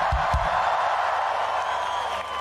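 A large festival crowd cheers and roars at a Linkin Park live rock show, a dense wash of distant voices that holds steady after a couple of low thumps.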